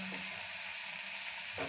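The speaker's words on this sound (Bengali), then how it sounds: "এই কয়টা আমি উলটপালট করে ভেজে নিচ্ছি আগে" Chicken pakoras sizzling steadily in hot frying oil, a dense continuous crackle heard up close, with a brief stir or turn of the pieces near the start and end.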